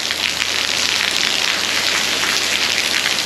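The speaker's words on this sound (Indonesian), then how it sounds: "masih hujan terus-terusan. Dengar nggak nih suaranya makin deras nih?" Heavy tropical rain pours steadily on Seram Island in Maluku as a dense, loud, unbroken hiss of drops drumming on surfaces, close and with no voices.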